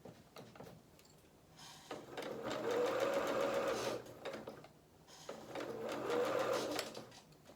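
A domestic sewing machine chain stitches soft-toy rabbit costume pieces, running in two sustained bursts with a quiet pause between them, close and fairly loud, with no talk.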